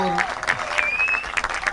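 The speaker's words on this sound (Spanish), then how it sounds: "Un fuerte aplauso para ustedes." An audience at a poetry reading by the sea claps in steady applause, while a voice speaks over it through a microphone.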